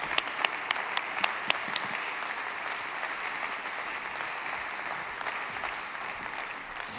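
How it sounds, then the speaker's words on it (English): A large audience at a high-level summit panel on climate gives a sustained, dense round of applause for a panel of presidents, steady and even throughout with a few sharper claps near the start. "Let's give them a warm round of applause,"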